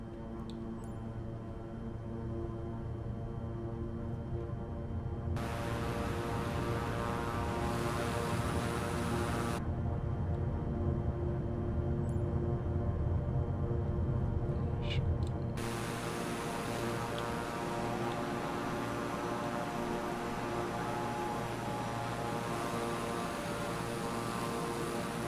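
Beechcraft King Air turboprop engines in Microsoft Flight Simulator, a steady loud broadband drone with a low tonal hum that persists throughout, shifting slightly in character partway through, with no voices.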